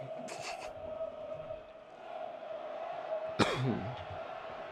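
A man coughs a couple of short times, near and fairly loud, amid low background chatter while a football match plays.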